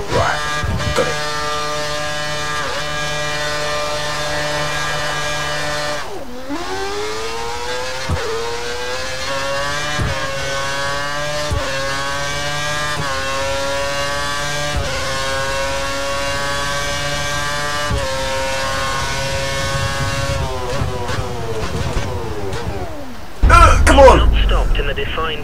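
Formula 1 car engine in the F1 2013 racing game on a wet track, a loud high-pitched whine that holds steady, shifts pitch repeatedly as it slows, then drops away into a rougher burst near the end.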